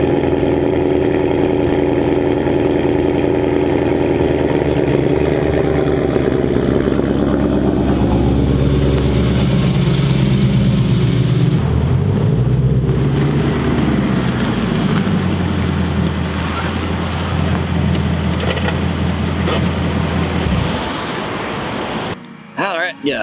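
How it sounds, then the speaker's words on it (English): Steady traffic roar from a busy highway beside a roadside photo spot, with engines idling and passing vehicles, loud and continuous throughout, with a low rumble that swells in the middle before cutting off near the end. "pardon the traffic noise because it seems always"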